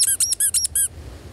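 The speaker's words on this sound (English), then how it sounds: "This is my little squeaker." A hand-held squeaker toy used by a wildlife photographer gives four quick, loud, high squeaks in a rapid rhythm, close to the microphone, then stops, leaving faint background hiss.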